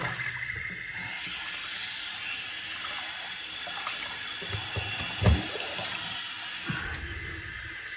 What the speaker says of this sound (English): now I've got opportunity to clean my brush, clean the razor, clean up the mess around me